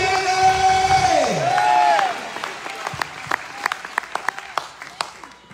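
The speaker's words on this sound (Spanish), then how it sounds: "dale palmas al Señor" A church congregation at an evangelical service breaks into scattered applause and claps after a sustained electronic organ-like tone slides downward, the claps sharp and irregular, thinning into individual hand strikes toward the end.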